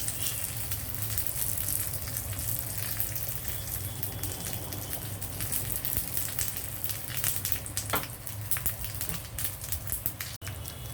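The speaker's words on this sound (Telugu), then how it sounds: "ఇదిగోండి, వెళ్ళిపోయింది మన తాలింపు." Tempering spices crackle and sizzle in hot oil over a lowered flame for a South Indian lentil dish, a dense, steady frying hiss that stays close and continuous, with scattered pops and no speech.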